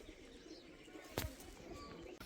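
Pigeons cooing softly at Bhangarh fort, low murmuring calls in the background with a brief louder rustle or flutter partway through, over quiet outdoor ambience.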